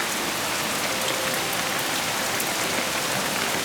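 Steady, heavy rain pours down without a break, a dense even hiss of drops hitting surfaces close by.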